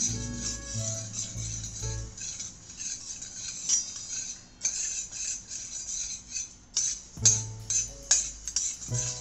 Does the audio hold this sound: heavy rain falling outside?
no